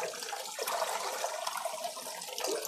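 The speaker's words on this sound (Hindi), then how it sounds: "ये ऑटोमेटिक पानी इसमें भरते जा रहा है" Water streams and splashes into a desert cooler tank as it fills on its own through a float valve, a continuous close gush with no talking.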